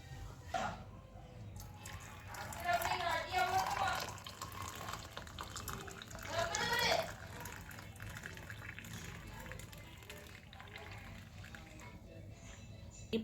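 Boiled coriander water, part of a traditional cold and cough home remedy, is poured through a strainer into a cup. Two bursts of liquid splashing stand out against a quiet kitchen background, with no talking.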